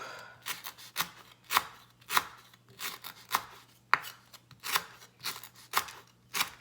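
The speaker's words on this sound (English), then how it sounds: "you're going to use a lot of your strength just to slice it all the way to the end part" A knife chops fresh ingredients for a Cambodian green curry with catfish fillet on a board, giving a steady run of crisp, close cuts at an uneven rhythm with no talking.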